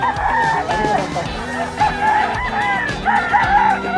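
A pumpkin-colored straight-comb gamecock crows loudly and up close at a poultry sale in Bocaue, with other fowl clucking and honking around it.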